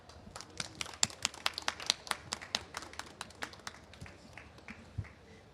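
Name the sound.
audience clapping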